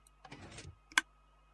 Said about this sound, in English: You hear 1 click.